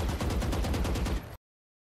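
Rapid automatic fire from the Vandal rifle in the video game Valorant: a dense, loud, evenly spaced burst of shots lasting just over a second, then cut off abruptly into silence.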